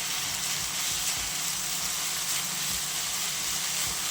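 Potato and taro leaf filling sautéing in oil with mustard seeds, a continuous close hiss and sizzle with faint stirring scrapes underneath.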